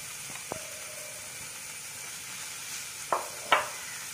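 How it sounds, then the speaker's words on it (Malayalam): River-caught nanthan fish fry in a pan with a steady, soft sizzle. A few sharp clinks and scrapes from stirring or placing the pieces cut in near the end. "കുറച്ച് വറക്കാം."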